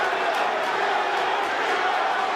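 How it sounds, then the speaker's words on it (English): A boxing crowd at the Teofimo Lopez vs. George Kambosos Jr. fight keeps up a loud, steady, dense murmur, a continuous wash of many voices with no clear pauses. "The crowd buzzing, they sense something."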